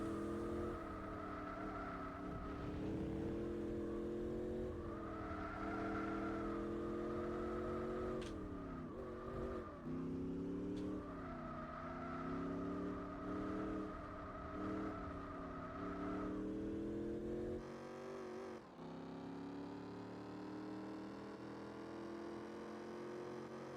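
Modded engine note of a car in Gran Turismo 4 Spec II, loud and continuous, revving up and down through repeated gear-change sweeps with a brief drop near the end, no talk over it.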